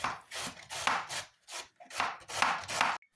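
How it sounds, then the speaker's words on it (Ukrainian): About one kilogram of cabbage is shredded on a hand vegetable shredder, giving eight or so rhythmic, close scraping strokes in quick succession, without any talk. "Приблизно 1 кг капусти нарізаю шатківницею."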